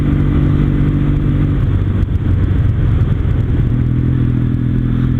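A Kawasaki W800 Cafe Racer engine hums steadily while riding at around 3000 RPM and 60 km/h, a loud, even low rumble with constant mechanical whir and no breaks or revving changes.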